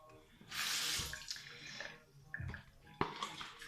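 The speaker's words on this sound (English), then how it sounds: "So just run the tap, make sure the water's warm." Warm water runs from a bathroom tap into a sink in bursts of steady splashing, with brief pauses and a few clunks between flows, close by.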